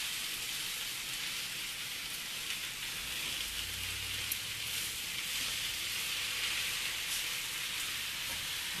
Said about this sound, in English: Sauteed greens is the secret to my success.